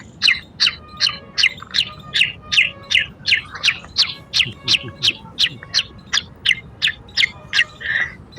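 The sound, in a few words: small birds chirping in the morning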